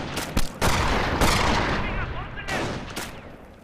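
Battle gunfire in the Company of Heroes Normandy campaign at Carentan: loud rifle cracks and sharp bursts repeat irregularly over a rumbling battlefield din, with shouted voices mixed in.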